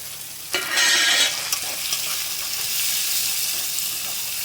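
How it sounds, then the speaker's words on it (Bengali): A tomato drops into hot oil with a pinch of sugar in a pan, setting off a sharp burst of sizzling that settles into a steady, fairly loud frying hiss, with no one speaking. "এবার দেখো আমি টমেটোটা দিয়ে দিচ্ছি।"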